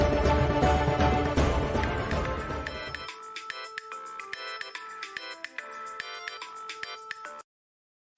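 A telephone ringtone repeats on an unanswered call in a Telugu TV serial scene, starting under a swell of dramatic music and then playing alone as a steady, close, electronic tone pattern until it cuts off.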